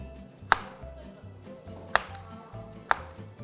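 Three sharp knife chops land on a cutting board at uneven intervals while cutting vegetables for japchae, crisp and close, over a low murmur of background sound.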